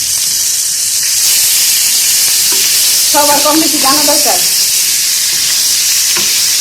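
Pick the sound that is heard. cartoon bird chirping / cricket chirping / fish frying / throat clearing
fish frying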